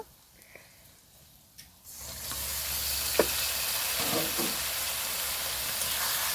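Boiled chicken hits a pan of fried ginger, garlic and onion for a Bengali malai curry: quiet handling at first, then a sudden loud, continuous sizzle with occasional stirring scrapes and a sharp clack.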